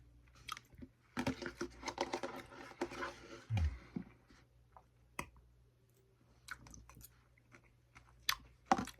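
Close, quiet chewing of a home-cooked lunch, with irregular soft crunches, moist mouth clicks and brief pauses between bites, with no talking.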